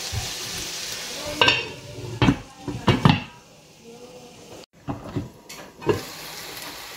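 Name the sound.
stirring black beans with salted salmon in a pan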